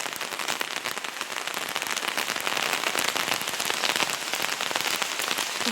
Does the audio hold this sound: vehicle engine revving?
no